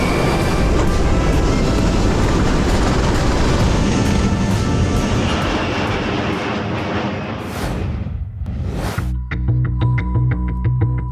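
Engines of an Ilyushin IL-76 on a humanitarian airdrop mission in South Sudan, a loud, continuous heavy roar heard close from inside the aircraft, dipping briefly before a rattling, clattering interior drone.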